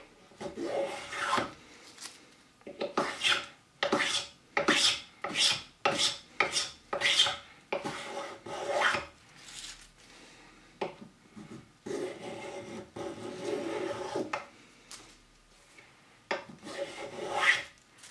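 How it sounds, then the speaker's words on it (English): A small ebony hand plane shaves white oak end grain in repeated rasping strokes, each a short scraping swish, in quick bursts separated by pauses, close and fairly quiet. "I absolutely love how these planes cut the end grain."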